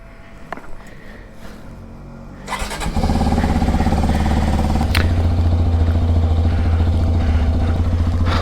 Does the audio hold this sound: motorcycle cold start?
yes